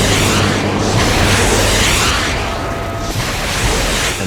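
Rockets fired from a Huey helicopter in a nose-down attack run strike a ground target, giving a continuous, loud roar of blasts and rumbling detonations that swell and fade over a few seconds.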